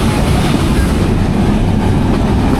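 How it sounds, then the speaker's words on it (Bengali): A train runs at over 70 km/h near Hardinge Bridge in Bangladesh, heard from on board as a loud, steady rumble and rush of wheels and wind with no voices. "ট্রেনের গতি কিন্তু বেশ ভালো রকমই উঠে গেছে, 70 কিলোমিটারের উপরে"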